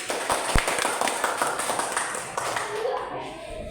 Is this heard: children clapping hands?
yes